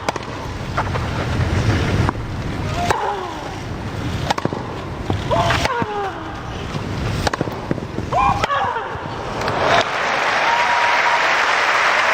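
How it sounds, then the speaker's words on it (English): A Wimbledon centre court crowd at a Serena Williams match breaks into loud, sustained applause and cheering that swells and holds, with a few sharp claps and shouts rising above the roar. "that got a big cheer from the centre court crowd"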